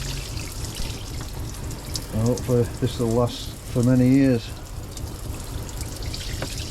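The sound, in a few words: water draining from a DIY fibreglass campervan shower tray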